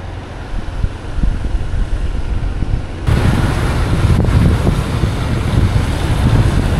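Strong outdoor wind buffets the microphone continuously, growing louder partway through, with cool gusts blowing during rainy weather near a parish church in Gia Kiệm, Vietnam.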